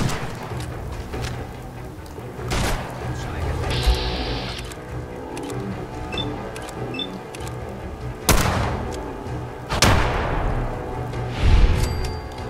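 Gunshots in Fallout 4 ring out as a few sharp, loud cracks spaced several seconds apart over a steady game-world background hum.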